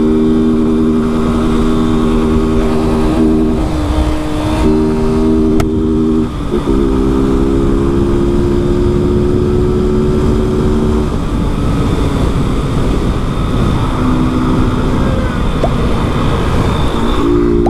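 A Honda Fan 160 motorcycle with a Jet camshaft and original exhaust without filter revs loudly and close by in repeated bursts, holding and dropping in pitch with brief pauses between pulls, and no talk over it.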